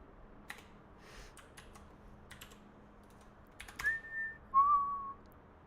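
Soft keyboard typing clicks in scattered bursts, followed near the end by two short, clear whistled tones, one held and then a second lower one, close by with no talking.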